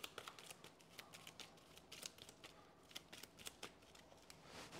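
A deck of cards for the Kingdom Death board game is shuffled by hand close up, with rapid riffling bursts and crisp flicks in an uneven rhythm, quiet and free of talk.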